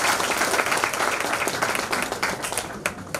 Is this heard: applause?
yes